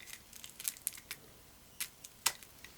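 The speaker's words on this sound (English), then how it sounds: "cut the paper." Paper is cut while a board game, The Isle of Cats, is unboxed, with soft intermittent snips and crisp rustles in irregular bursts, quiet and close, with no talking.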